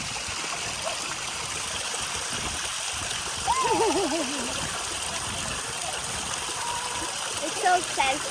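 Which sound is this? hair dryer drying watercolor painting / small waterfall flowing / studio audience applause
small waterfall flowing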